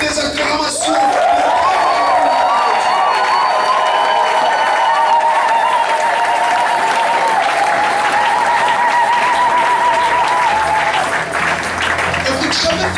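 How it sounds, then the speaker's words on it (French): A church congregation erupts in loud, sustained cheering and applause, with clapping, shouts and high ululating cries rising together and holding steady before fading into scattered voices. "pouvons-nous pousser les acclamations?"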